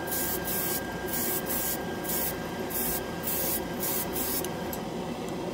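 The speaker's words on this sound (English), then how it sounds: "My compressor only seems to go off when I'm holding the trigger down for about a minute." An airbrush sprays ChromaAir scale-model paint, fed by an air compressor, giving a steady close hiss broken by short regular bursts as the trigger is worked, with no talking.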